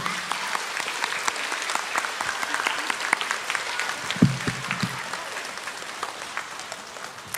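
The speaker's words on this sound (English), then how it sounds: "can we give your teachers a round of applause for all the hard work they did this year?" Children and staff at an elementary school end-of-year assembly applaud their teachers, a fairly soft, continuous patter of many hands clapping throughout, with a brief louder knock partway through.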